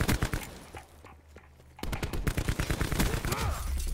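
Rapid bursts of video game gunfire from a strike team in a multiplayer shooter, loud and close, with a brief quieter lull before the shooting resumes in dense volleys.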